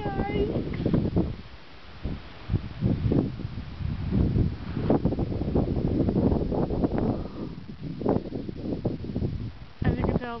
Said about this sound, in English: the first truly serious windstorm of the season